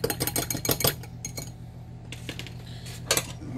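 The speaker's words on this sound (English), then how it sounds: "Stir this up again." A spoon clatters and scrapes around a bowl while stirring spices for a kitchen pig roast, a busy burst of close metallic clinks at first, then a few softer taps over a steady background hum.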